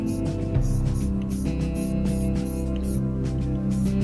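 Short repeated bursts of spray primer misted from a can onto a bare metal wheel, about a dozen quick hissing puffs in an even rhythm over a steady background hum.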